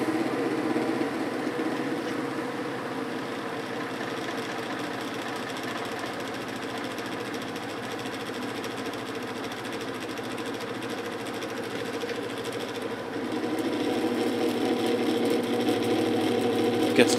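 A vintage 1950s GE window ventilator fan with a shaded-pole motor runs steadily on medium speed, giving a constant close motor hum and whirring airflow with a faint rattle. It grows slightly louder near the end.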